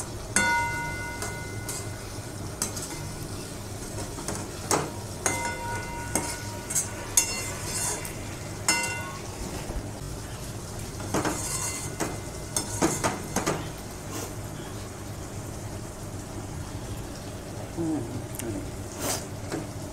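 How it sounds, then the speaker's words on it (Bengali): Pieces of rohu fish tossed with spices in a pan: quiet, intermittent scraping and metallic clinks of a utensil against the pan over a low background hum, in uneven bursts. "মাছগুলো দিয়ে একটু মশলার সঙ্গে নেড়ে চেড়ে তারপর আমি ঝোল দেবো"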